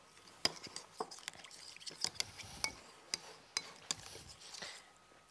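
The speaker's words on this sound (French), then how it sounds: "on mélange bien pour dissoudre la levure dans le lait tiède" Yeast is stirred into warm milk in a bowl for brioche dough, giving faint, irregular clinks and taps of a utensil against the container over soft liquid movement.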